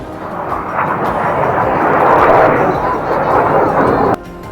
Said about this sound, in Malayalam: കുട്ടികൾ പറത്തിവിട്ട പട്ടം കാറ്റിൽ കറങ്ങുന്നത് പോലെ ഒരു വിമാനം ഇവിടെ കറങ്ങി കളിക്കുകയാണ്